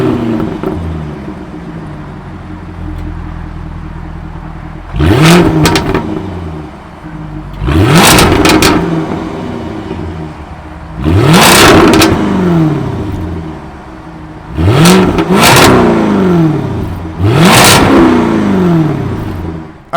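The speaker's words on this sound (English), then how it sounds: "that was of course the sound of the 5-liter supercharged V8 sold by Jaguar for this 2023 F-Type P450 all-wheel drive" A 2023 Jaguar F-Type P450 AWD with a 5-liter supercharged V8 idles, then revs sharply five times in spaced, loud, close bursts that rise and fall back to a burbling idle.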